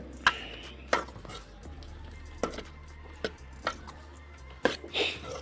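Okra being stirred and mixed in a pan for an okra gravy, giving a handful of sharp scraping and clinking hits from a utensil at uneven intervals over a low, steady background.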